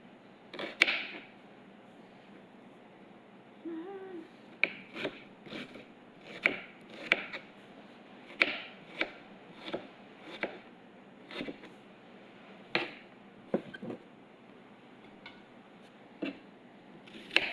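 Onion and tomato are sliced on a cutting board with sharp, irregular knife taps that land one after another, some close together and others spaced out, quiet and close with no talking.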